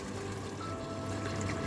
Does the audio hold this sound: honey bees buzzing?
no